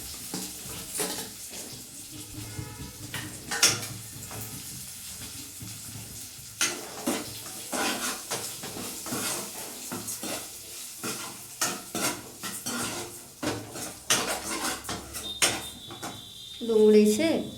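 Finely chopped onions sauté in a pan while being stirred, with scraping strokes, a soft sizzle and some clatter underneath; a brief tap-water run near the end. No talking.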